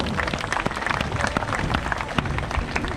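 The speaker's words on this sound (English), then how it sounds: "so let's give them a big round of applause." Audience applause at an outdoor wildlife show at the African Lion Safari in Canada, honouring the tortoises; steady dense clapping from a crowd mixed with some crowd noise and voices.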